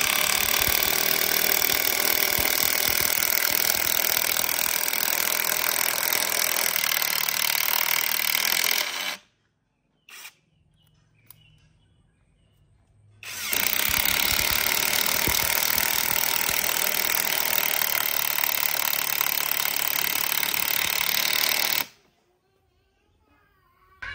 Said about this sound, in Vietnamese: Em sẽ dùng khẩu 13 em bắn trên vít gỗ nhá.